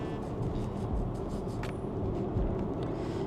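Steady low road rumble and wind noise fill the cabin of a BYD Sea Lion 07 EV at 130 km/h, a constant muffled drone with no talking.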